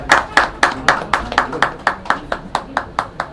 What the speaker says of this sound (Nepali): उहाँको सम्मानको लागि यहाँ सबैजनाले जोरदार ताली बजाइदिनु होला।